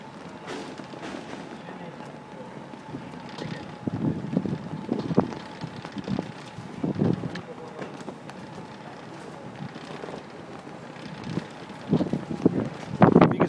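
Strong gusty wind buffets the microphone in heavy rumbling bursts, rising and falling throughout, with occasional thumps and faint voices in the distance, at a ski jumping event in Lahti.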